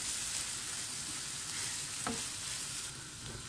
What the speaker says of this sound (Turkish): Domatesimizi de kavuralım.